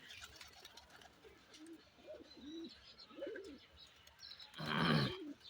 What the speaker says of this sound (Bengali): দমের পায়রা আছে